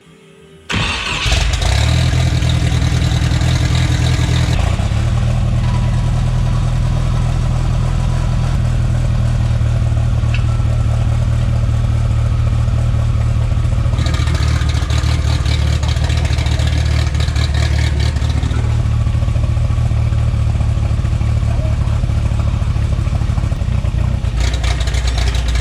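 Turbocharged car engine with a custom full 3-inch turbo exhaust starts and runs loud and close, with deep steady rumble and a brief rev change partway, carrying on strongly throughout.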